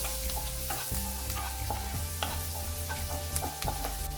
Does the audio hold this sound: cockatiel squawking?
no